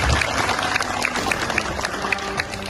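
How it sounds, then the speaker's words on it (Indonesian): Applause from students and teachers at a school Independence Day flag ceremony at MAN Aceh Utara, a steady, dense clapping held at even loudness, with crowd noise mixed in. "Kita kasih aplaus."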